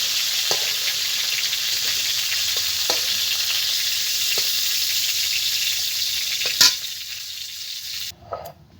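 Cauliflower frying in a pan gives a steady bright sizzle with scattered soft taps of a utensil, a sharper clank near the end before the hiss drops away.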